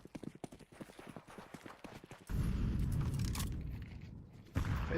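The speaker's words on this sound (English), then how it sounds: "Laser hears all of these footsteps" Footsteps in Counter-Strike during a competitive match: quick rhythmic steps at first, then a loud dense burst of gunfire and game noise over the rest.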